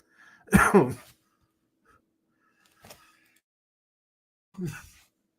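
A sharp, explosive cough up close, followed by a faint short sound and then a second, softer cough a few seconds later, with quiet between.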